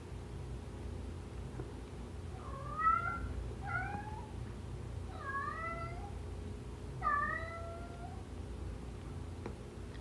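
A cat meows repeatedly, four or five insistent calls in two clusters, close by against a steady low hum, with no voices.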